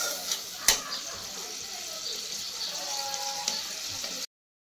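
Water is poured into a pan of doi katla simmering on the stove, a faint, soft splashing hiss with a small clatter near the start, and no voices.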